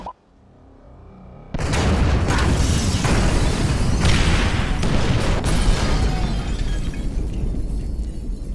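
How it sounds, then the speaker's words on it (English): Incendiary charges detonate in GTA V: after a quiet mechanical lead-in, a sudden loud blast erupts and rolls into a sustained roaring, crackling wash of debris and fire that continues for several seconds. "Detonate the incendiaries, Frank."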